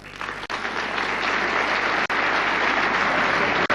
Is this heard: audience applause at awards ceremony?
yes